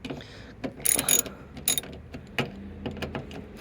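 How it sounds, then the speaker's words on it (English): A ratchet wrench working thread-locked bolts loose on the rear door of a 2022 Kia Sportage, with close, quick bursts of metallic clicking and some rattling and clanks between them, no talking. "You end up having to use the wrench for the majority of it."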